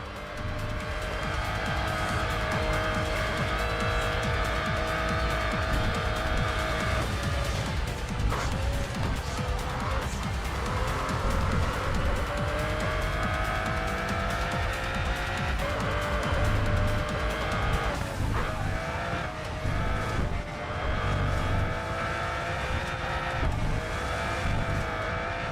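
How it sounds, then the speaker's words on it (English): In Racing Master, a race car roars through the Nürburgring Carousel, its engine screaming steadily with gear-change dips while the tires squeal and skid under load throughout. "car going through the carousel."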